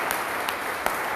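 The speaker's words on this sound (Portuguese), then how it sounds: "dá uma salva de palmas ao Senhor Jesus" A congregation claps for Jesus during a church service, a short even spell of dense applause that comes in a steady wash.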